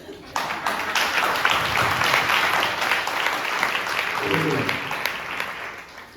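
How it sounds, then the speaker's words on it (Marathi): Congregation at a church service applauding for brother Pratik, a sustained burst of dense clapping from a crowd, with voices speaking over it. "प्रतीक ब्रदरसाठी टाळ्या जोरात"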